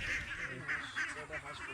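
Campbell ducks at a duck farm quack in a busy, overlapping chorus, fairly faint and continuous, with rapid repeated calls.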